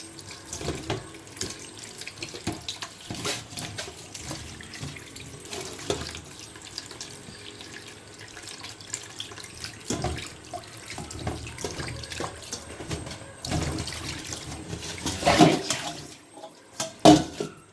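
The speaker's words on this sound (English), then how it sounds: "we're gonna just wash off some of the salt off our saltfish" Saltfish being washed under a running tap in a kitchen sink to rinse off the salt, a loud continuous gush of water with bursts of splashing that swell toward the end, and no voices.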